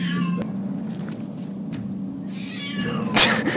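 A cat in Skyrim's Dawnguard game gives a short meow near the start, then a louder sharp yowl near the end over a low ambient hum.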